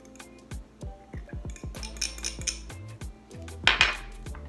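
A spoon stirring brown sugar, vanilla and melted butter into a syrup in a bowl for pecan pie bars, producing close, quick clinks and taps against the bowl in an uneven run, ending in a louder scrape, with no one speaking.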